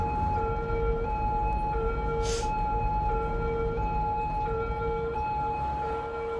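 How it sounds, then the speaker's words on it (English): Flood truck sirens wail continuously in the city-building game Cities: Skylines, with several steady, overlapping tones held over a dense traffic rumble and a brief hiss midway. "The sirens make it stop."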